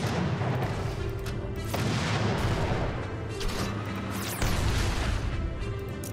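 Tanks firing in the Codex of Victory strategy game, a dense, continuous barrage of booming cannon shots and blasts layered over one another, loud and close with no talking.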